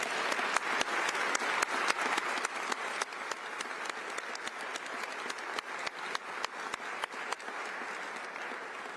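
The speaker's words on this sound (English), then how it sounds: "Let's give them a round of applause." Sustained applause from a crowd in the Utah State Capitol legislative chamber during the State of the State address, dense crisp clapping with scattered sharper individual claps, steady and full throughout with no talking.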